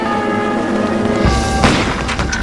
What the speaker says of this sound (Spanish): Por la mañana temprano se oyen disparos